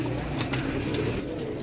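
Pigeons coo steadily at close range while being handled one by one during a bird check, a low throaty burble that continues throughout with no talk.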